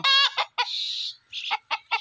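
A desi rooster in a village in Punjab, Pakistan, clucks and calls nearby in short, sharp bursts with one drawn-out squawk in the middle, clear and fairly loud.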